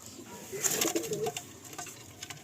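A pair of pigeons coos softly, with a brief rising burst of cooing followed by scattered lighter murmurs and rustles, quiet and close.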